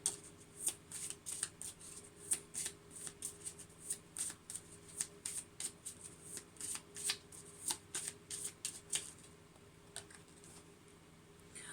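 Moonology oracle cards are shuffled by hand in a quiet room, giving soft, rhythmic riffling flutters repeated steadily for several seconds, close but faint.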